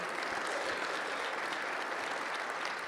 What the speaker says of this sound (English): A big round of applause for all three of you